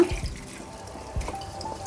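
Soaked moong dal is poured together with its soaking water into a cooking pot for beetroot kurma, a close, splashing gush with a few drips and no talking.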